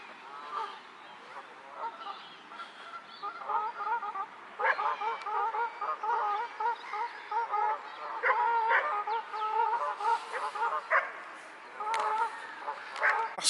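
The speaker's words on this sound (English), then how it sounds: "Today it's like being at the seaside, there's nothing but gulls." A large flock of gulls calls over a park lake in February, a dense chorus of harsh overlapping cries that grows busier and louder partway through.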